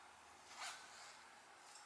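A clothing zipper on a casual spring/summer outfit is drawn in a single quick pull, a short soft rasp heard up close in an otherwise quiet room.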